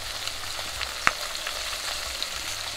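Pabda fish frying in hot oil, a steady soft sizzle with scattered small pops and one sharp crackling spit near the middle, close by with no talking.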